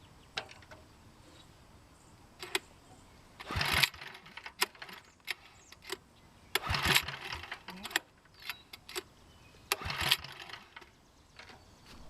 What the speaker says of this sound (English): then I give it full choke and pull it a few times